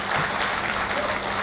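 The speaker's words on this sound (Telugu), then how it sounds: "సరే గట్టిగా చప్పట్లు" An audience claps loudly and steadily at a public talk, a dense continuous round of applause filling the hall for a brief moment.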